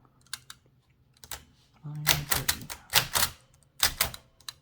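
Clattering keystrokes on a 1920s Helios-Klimax typewriter, a run of sharp mechanical strikes in uneven bursts, close and crisp, with a brief voice near the end.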